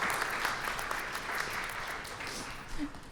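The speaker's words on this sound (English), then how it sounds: "I think that deserves a round of applause" A room full of people clapping at a community panel event, a dense, even burst of applause at moderate loudness with no voices over it.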